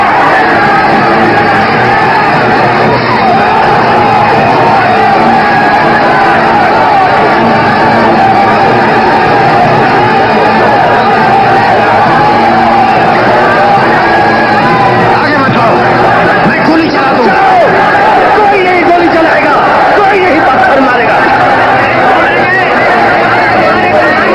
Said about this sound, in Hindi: रोको इस भीड़ को।